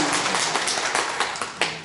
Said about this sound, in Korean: 박수로 감사드리겠습니다.